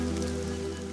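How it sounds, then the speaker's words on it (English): Steady rain falling in the Kalahari desert, a dense continuous patter heard close and loud, with no voices. "The rain is a welcome relief"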